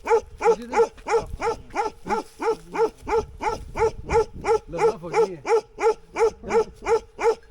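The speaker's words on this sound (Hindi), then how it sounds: "यहाँ पे आपको कुत्ता भौंकने की आवाज़ आ रही है, और ये प्योर बकरवाली कुत्ते इन लोगों ने रखे हुए हैं" Bakarwal dogs bark at an isolated village house in rural Azad Kashmir, a steady run of about twenty loud, evenly spaced barks close by, with a faint lower voice or animal sound underneath.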